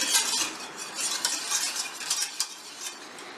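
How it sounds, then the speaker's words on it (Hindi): A spoon scrapes and swirls through condensed-milk custard in a pot over a medium flame, making soft, rhythmic stirring strokes with light metallic clinks and no talk. "मीडियम फ्लेम के ऊपर चम्मच चलाते जाएंगे और इस कस्टर्ड को पका के अच्छे से गाढ़ा कर लेंगे।"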